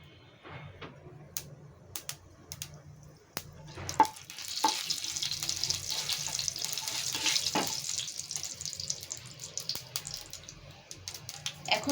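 Mustard seeds and a dried red chili crackle and sizzle in hot oil for a tempering, with scattered sharp pops over a steady hiss that swells midway, close and alone.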